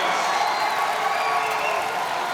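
Spectators cheer at a women's rugby sevens match in Clermont-Ferrand after France scores a try, a broad, steady roar of crowd noise with whistling tones rising over it, distant and continuous.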